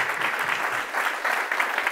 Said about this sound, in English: you guys got to give yourselves a round of applause just for being here.